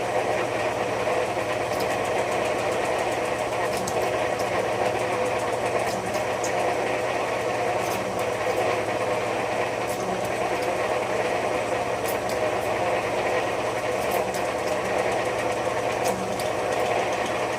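Cochrane Bly slotter head cutting steel under hand feed, a loud continuous mechanical hum with a steady rhythmic chatter, no talk.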